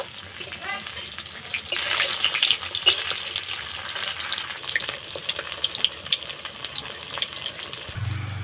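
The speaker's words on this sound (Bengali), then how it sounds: "বড়াগুলো এক পিঠ ভাজা হয়ে গেছে আর একটু উল্টে দেবো" Fritters of water lily and rice fry in hot oil with a close, continuous crackling sizzle and bursts of popping, ending in a brief low thump.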